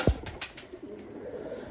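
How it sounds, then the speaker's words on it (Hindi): A pet pigeon lets out a single low coo at the very start, close and fairly loud, followed by soft rustling and faint background noise. "ले जी अगला कबूतर लेके आए जी मेरे साथ"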